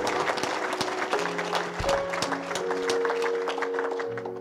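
An audience at a church worship service applauds and cheers, a dense, sustained clatter of clapping heard up close, with a few faint tonal music notes sounding beneath it.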